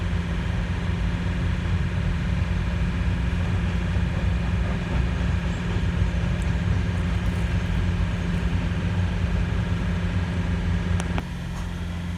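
A train rumbles continuously with a steady low drone, heard from nearby, ending in a brief clank as the sound drops slightly.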